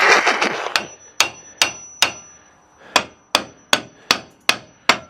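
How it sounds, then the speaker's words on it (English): A hammer strikes the brake shoes of a Volkswagen Bus about ten times in a steady rhythm, each blow a sharp ringing clank, the first few coming quickly together. "we got two of the main tools for brakes. A hammer and a brush."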